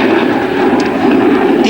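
Twin Sarkisov RD-33 jet engines of a MiG-29 roar with afterburner at an air show in Hradec Králové, a loud, sustained, deep rumble with a commentator talking over it.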